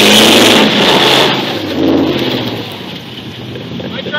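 Dodge Durango engine revving as it starts pulling an F-150 on a loose chain, a loud strained roar that swells and then eases, with wind buffeting the microphone.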